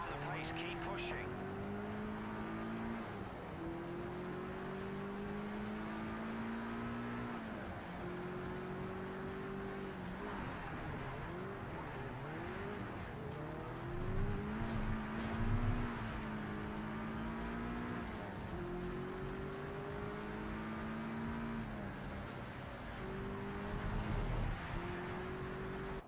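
Race cars in Project CARS 3 drone steadily at high revs, engine pitch rising and falling through gear changes as cars pass, with a louder burst mid-way; the engine noise runs continuously and fairly faint.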